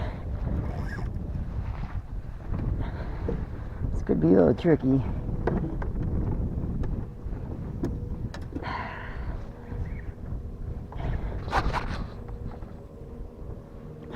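Wind blows across a small fishing boat on open water in South Florida, with gusty buffeting and microphone rumble beneath someone talking, plus occasional splashes and clatter on board.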